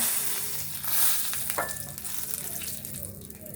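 Whole garam masala spices hit hot oil in a pan for an egg curry, giving a loud, continuous sizzle and spatter close by.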